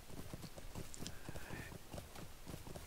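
Horse hooves clip-clop in a quick, steady galloping rhythm as a rider travels through the Lord of the Rings Online game world, close and clear against soft ambient background sound.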